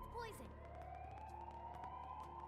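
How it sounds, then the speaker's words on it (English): An alarm blares through a fortress in the video game Xenoblade Chronicles X, a steady wailing tone that rises and holds over game rumble, with a brief swooping warble at the start. "I see they are ringing all the alarm bells for us in this fortress"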